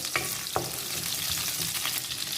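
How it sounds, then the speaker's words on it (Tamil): Shallots sautéing in hot oil in a pan for a raw banana kofta, a steady close sizzle broken by a few soft stirring scrapes. "வெங்காயம் மட்டும் கொஞ்சம் நல்லா வதங்கிடணும்"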